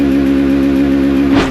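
A Bajaj Platina 110 motorcycle's 110 cc engine runs loud and close with a steady, even mechanical drone, then gives a brief sharp change in tone right at the end; no talking.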